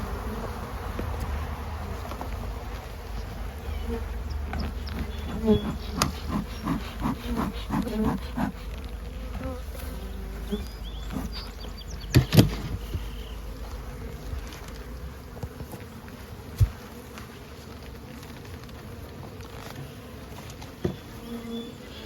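Honey bees hum steadily in and around an open hive being inspected, a continuous close buzz broken by scattered clicks and knocks of handling around the frames.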